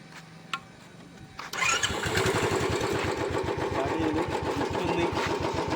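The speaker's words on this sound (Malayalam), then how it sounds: "അപ്പം വാഹനം സ്റ്റാർട്ട് ചെയ്യുക" A motorcycle with a carburettor is started up, a brief cranking followed by the engine catching into a steady, close, rapid idle that runs to the end.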